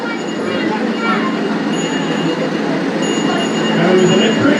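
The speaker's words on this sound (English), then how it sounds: "there's probably one of the smallest engines here on the railway, and is based on a Wisbeach and Upwell tram locomotive" A small tram-style locomotive modelled on a Wisbech and Upwell tram engine runs on a light railway at a gala, giving a steady, close rolling rumble and mechanical clatter throughout.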